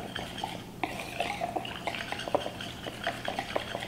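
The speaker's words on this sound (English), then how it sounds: "So we're just gonna whisk." Stir fry sauce is being whisked in a bowl, giving light rapid clinks and soft liquid swishes in an irregular rhythm, close and fairly quiet.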